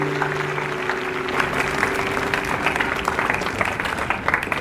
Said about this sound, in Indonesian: Beri tepukan kepada cikgu sejarah baru kita, Cikgu Murni